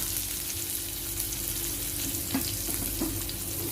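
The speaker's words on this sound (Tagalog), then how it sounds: "Ilagay na rin natin ang sibuyas, may waga." Onion frying in a pan with a steady, dense sizzle that holds at an even level throughout, joined by a couple of faint knocks near the end, close and with no talking.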